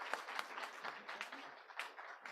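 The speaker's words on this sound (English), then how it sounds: "Another round of applause for Mama McKenna." Sparse, faint clapping from a summit audience, individual claps standing out in an irregular, quiet patter rather than a dense roar.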